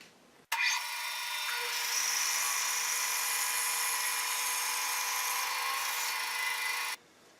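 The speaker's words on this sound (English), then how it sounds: "And I'll cut just about 100 thousandths of an inch away from the end of the board." A saw blade cuts a wooden board on a slotting jig for a Celtic ring, a steady high whine that starts abruptly, holds for about six seconds and then stops cleanly. Nobody talks.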